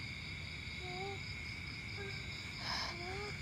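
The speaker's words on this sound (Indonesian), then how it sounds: "Suara kodok." Frogs croak at night in a rural Bogor village, short rising calls repeating every second or so over a constant high insect drone, soft and somewhat distant.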